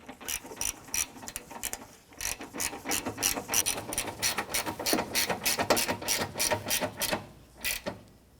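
A socket ratchet tightens a bolt while a washer reservoir is fitted on a 1994-2004 Chevy S10, giving rapid bursts of close, crisp clicking strokes with short pauses between pulls.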